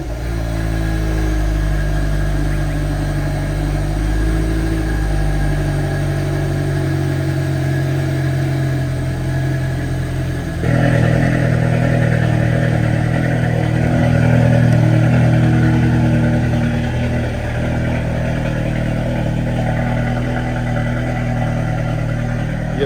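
Hyundai Kona N engine started in N mode inside a garage, giving a loud, steady engine drone that jumps to a louder, rougher note partway through, then holds a strong idle with no talk.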